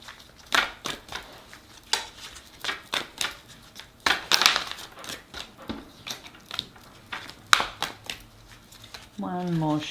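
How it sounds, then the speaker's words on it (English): Tarot cards are shuffled with repeated crisp riffling and tapping bursts, close up, and a voice begins at the very end. "we're just giving the cards a really good shuffle"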